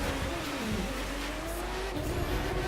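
A car's engine in the racing video game The Crew 2 drones continuously and loudly, its pitch rising and dipping under a constant roar of road and tyre noise, with no talking.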